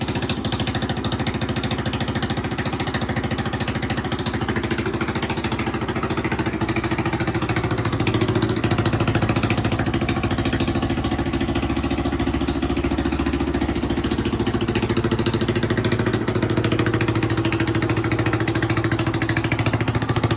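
A Honda XR200 motorcycle engine, just after a top end rebuild, idles steadily with a constant low chugging rumble, close and loud, holding an even pace with no revving or voices.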